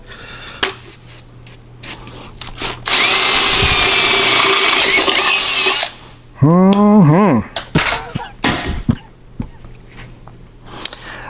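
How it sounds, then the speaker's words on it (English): A power drill whirs loudly for a few seconds, then a second burst with rising and falling motor pitch, amid clunks and handling noises. "we'll drill this other one"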